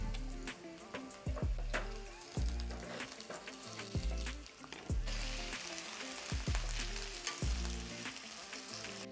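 Green onion whites and tomatoes hitting hot oil for Vietnamese crab noodle soup, a continuous soft sizzle punctuated by repeated clinks and taps of utensils on the pan, quiet and without speech.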